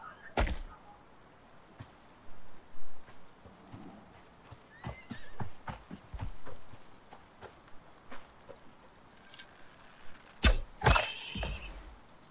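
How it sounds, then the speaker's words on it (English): A terror horse in the video game Icarus neighs and whinnies amid clip-clopping hooves and scattered clunks, moderately close, with sharp knocks punctuating the scene. "I can hear a terror horse, but I can't see it."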